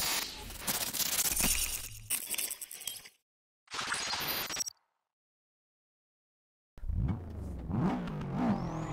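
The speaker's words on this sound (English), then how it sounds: "Rally car converted to drift car on a GT4 map from Grand Theft Auto 4" A rally car converted for drifting, driven on street maps in Grand Theft Auto 4, revs hard in loud bursts separated by sudden silent gaps. It ends with rising and falling engine whines close up, with no talking.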